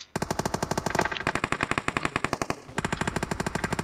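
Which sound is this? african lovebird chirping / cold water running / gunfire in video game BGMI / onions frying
gunfire in video game BGMI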